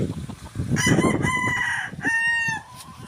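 A gamefarm rooster crows loudly and close by in a couple of long drawn-out calls, with hens clucking softly in the background.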